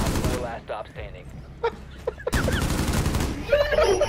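Rapid automatic gunfire bursts from the video game Rainbow Six Siege crackle under excited player voices, with short volleys and sharp shots in the mix.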